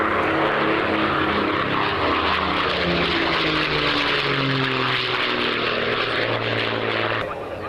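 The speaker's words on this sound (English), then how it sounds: "I don't like interrupting the great sound of these aircraft" Propeller aircraft engines roar loud and continuous, a dense drone with wavering tones, close by, the sound cutting slightly near the end; a voice talks faintly beneath.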